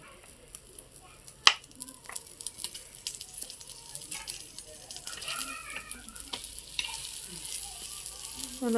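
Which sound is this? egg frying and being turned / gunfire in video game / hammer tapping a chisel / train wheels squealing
egg frying and being turned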